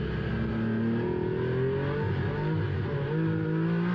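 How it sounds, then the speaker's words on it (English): A race car engine drones steadily at high revs out of the final corner at Jerez, pitch shifting slightly as the throttle is fed in, continuous and fairly loud with no talking. "Listen to the throttle input out of this final corner."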